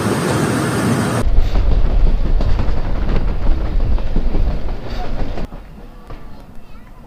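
The Mohen Jo Daro Express pulls into Sann railway station with a loud, close rumble and rattle of carriages that eases into a quieter roll after about five seconds.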